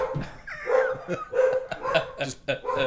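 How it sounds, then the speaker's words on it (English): Neighboring dogs bark repeatedly next door, heard through hollow walls, with several sharp bursts spread across the moment, mixed in among close-up voices and a bit of laughter. "That's the neighbor's dogs. That's those damn dogs next door."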